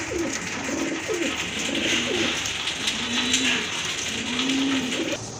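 A pair of Rajshahi Giribaz pigeons, one paired with a local bird, coo close by in repeated low rolling phrases over a steady background hiss.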